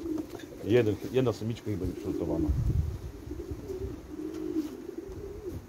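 Domestic racing pigeons coo in low, throaty rolls close by, while someone talks over and between the calls.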